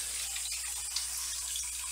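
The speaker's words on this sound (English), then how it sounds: "we're just going to fill up our our rinsing cup here and just get all that soap off." Tap water running steadily into a rinsing cup while cleaning a gaming mouse pad, a continuous close hiss of flowing water lasting the whole two seconds with no talking.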